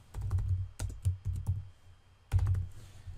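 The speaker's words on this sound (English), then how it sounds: "digital signature just means you type your name" Typing on a computer keyboard, with quick, close key clatter in two short bursts separated by a pause, heard alone without speech.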